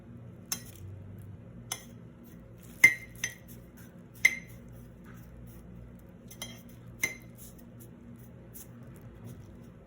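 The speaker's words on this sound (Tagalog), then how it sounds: "Maglalagay rin tayo ng ice, syempre." Ice being dropped into a glass of halo-halo, a scattered series of sharp clinks and taps, some ringing briefly, close but fairly quiet over a low background hum.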